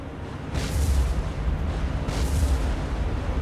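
Explosions from a biplane attack run in a video game, ending in an ammunition magazine blast: two deep, booming bursts roughly a second and a half apart over a steady low rumble, loud and close, with no talking.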